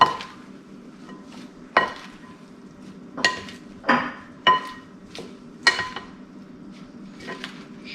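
Spoon or whisk stirring a Thai beef salad dressing in a bowl with green onion, ginger, garlic and lime, giving a series of irregular clinks and scrapes against the dish, close and moderately loud, with no talking.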